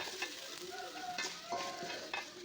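Ginger garlic paste fries with onions for a Chettinad chicken gravy while a spoon stirs it, making faint sizzling with soft scraping strokes at an irregular rhythm and no speech.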